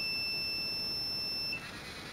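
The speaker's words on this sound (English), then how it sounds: "the buzzer will be indicating" A pick-and-place robotic arm with a conveyor gives a steady high electronic buzzer tone that cuts off after about a second and a half, leaving faint hum.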